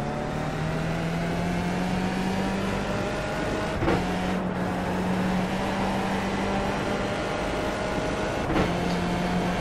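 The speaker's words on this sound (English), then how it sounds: "I can hear and feel that the car is getting warmed up." A Skip Barber race car idles and warms up in the iRacing simulator at Oulton Park, a steady engine drone with a low hum and two short revving bumps.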